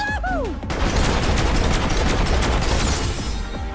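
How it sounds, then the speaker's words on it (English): Submachine gun fire in Final Fantasy XV crackles in a dense, continuous burst of rapid shots and booms, loud and close, with a brief voice-like sound just before it starts. "You have to shoot her with the SMG."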